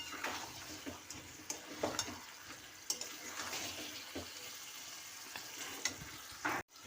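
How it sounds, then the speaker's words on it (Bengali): Chicken curry masala sizzles and hisses in a pan as masala water is stirred in, a steady close frying crackle with scraping stirs throughout and no voices. "মশলার এই জলটা দিয়ে একটু ভালো করে কষিয়ে নিয়ে তারপরে আমি আলুটা দিয়ে দেবো।"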